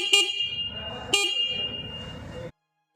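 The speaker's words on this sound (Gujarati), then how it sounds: "હોર્ન ચાલુ કરીને તમને બતાવું" A 2025 Honda Unicorn 160 motorcycle's single horn sounds twice, two short, bright beeps about a second apart, close up, over the low idle of the bike, which then cuts off abruptly.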